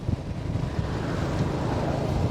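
Strong wind buffets the microphone outdoors on Phu Quoc Island, a steady, loud low rumble with gusty roar lasting throughout, no voices.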